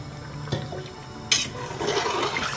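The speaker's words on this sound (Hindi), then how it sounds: "3 कप पानी डालूंगी, क्योंकि काफ़ी देर हो गई है इनको गीला किया हुआ है।" Water is poured into a pot of soaked rice for beef pulao, a steady close splashing and filling sound that swells louder toward the end, with no talking.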